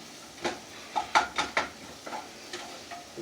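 Food tossed and stirred in a pan, a handful of quick scraping clatters of utensil against metal over a soft sizzle, close and fairly quiet, without talk.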